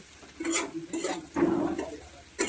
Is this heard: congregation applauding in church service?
no